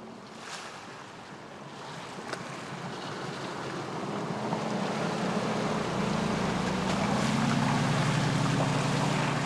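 A Mercedes G 500 wades through 60 cm deep water, a steady rush and churn of water over a low, continuous engine drone that grows slightly louder and fuller toward the end, with no voices.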